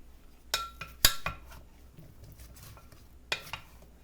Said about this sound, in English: Let's start mixing this up.